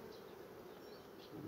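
Honey bees from an aggressive Carpathian colony hum in a steady, dense buzz, close and fairly quiet, with no voices.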